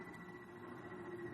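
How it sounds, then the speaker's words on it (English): Generators hum steadily to build power for an atomic motor test run by remote control, a faint, continuous low drone with a steady tone and no voices. "The sound you hear is our generators here, building up power to supply the motor by remote control."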